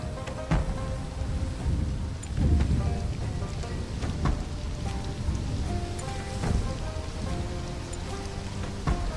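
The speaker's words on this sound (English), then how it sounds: "Oh, it's raining?" Steady rain falls in the survival strategy game Stranded: Alien Dawn, a continuous patter layered with soft in-game music tones and a few sharper drop hits throughout.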